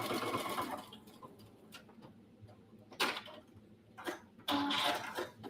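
Sewing machine top stitching a cross body bag, rapid mechanical ticking runs in short bursts separated by pauses, fairly close and moderately loud with no talk.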